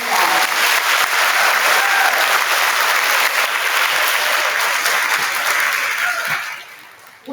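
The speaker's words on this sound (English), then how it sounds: "Let's give Miss Coleman's class a round of applause." A school auditorium audience at a second-grade awards day gives a class a loud, dense round of applause that holds steady for several seconds, then tapers off near the end.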